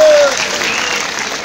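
A live comedy audience claps in brief, dense applause that tails off quickly, heard close and fairly loud.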